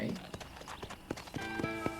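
Horse hooves clip-clop steadily in the Red Dead Redemption video game near Fort Mercer, the rhythmic thuds sounding under someone talking and background game music.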